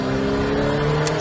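A Ferrari F8 twin-turbo engine drones steadily with a rising, revving tone, loud and close throughout, accelerating on a straight.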